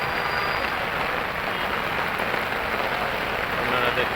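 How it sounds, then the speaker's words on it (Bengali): Heavy rain pours down in a steady, dense roar at close range, holding a constant loud level with no breaks. "প্রচুর বৃষ্টি হচ্ছে,"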